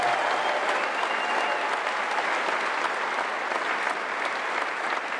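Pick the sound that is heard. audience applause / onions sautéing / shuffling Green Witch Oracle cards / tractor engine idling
audience applause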